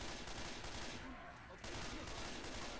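Gunfire in Left 4 Dead 2, a dense, continuous rattle of rapid shots that briefly thins out midway before resuming at full intensity.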